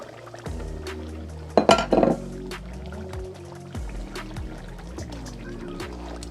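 Water splashes into a cooking pot holding goat seasoning for Jamaican curry goat, with a short burst of pouring amid clinks of dishes and utensils in a kitchen.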